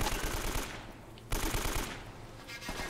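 An AK rifle fires in the video game Uncharted: Drake's Fortune, loud rapid automatic bursts that rattle on with a brief break in the middle, up close and without talk over them.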